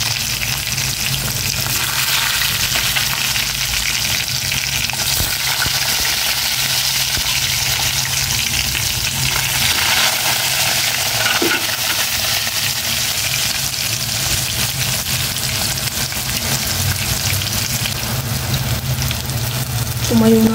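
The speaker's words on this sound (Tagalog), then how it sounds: "Prito ako ng talong." Eggplant slices frying in hot oil in a pan, giving a loud, steady sizzle that runs unbroken throughout with little change in intensity.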